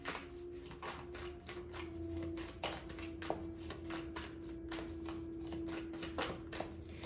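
Tarot cards being shuffled in quick repeated riffles, a crisp fluttering patter that goes on steadily with no voices.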